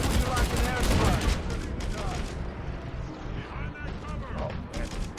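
Heavy .50 cal machine gun fire in Mercenaries 2, loud and continuous rapid rattling with explosive crashes mixed in, while a voice talks over the gunfire.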